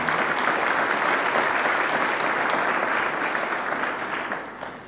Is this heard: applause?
yes